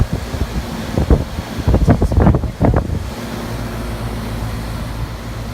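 A 2001 Carrier heat pump air conditioner runs outdoors with a steady low broadband whoosh and hum, joined midway by a few bursts of voice-like noise that then fade back into the constant drone.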